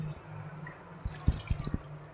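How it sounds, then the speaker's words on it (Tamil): A handful of water is sprinkled onto raw banana curry cooking with onions and masala, giving a few close, soft splatters and wet squishes in a quick cluster over a quiet kitchen hum. "இது ஒரு கை தண்ணி தெளித்தாலே போதும்."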